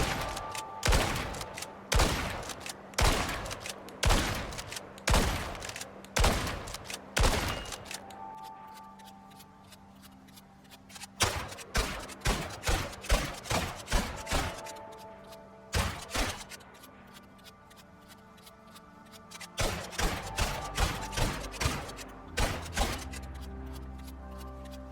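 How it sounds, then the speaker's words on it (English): A trench shotgun in the video game Icarus fires in rapid bursts of sharp, punchy blasts, each followed by a brief reload pause, repeating across the whole stretch with no talking. "let's go ahead and do the trench shotgun and do its criticals for a minute"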